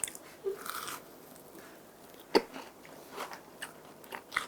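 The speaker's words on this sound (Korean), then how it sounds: "쫀득한 꽈배기 한번 먹어보겠습니다" A chewy twisted Korean doughnut made from glutinous rice dough gets bitten into and chewed, giving soft, moist mastication noises with one sharper bite near the middle, all close-miked with no talking.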